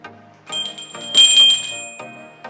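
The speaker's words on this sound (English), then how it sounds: "That's my timber bell." A small timber bell on a mountain bike rings repeatedly with clear metallic tones, a few separate dings then a brighter sustained ring, close and fairly loud.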